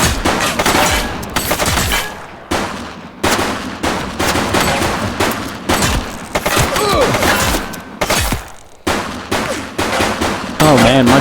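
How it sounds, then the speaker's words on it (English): Rapid, loud gunfire from a police shootout in a video game, with repeated bursts and single shots continuing throughout, with brief gaps between volleys. "Shots fired!"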